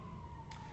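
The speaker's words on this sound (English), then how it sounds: "Sirens." An emergency vehicle siren wails faintly in the distance, a thin steady tone under low background noise.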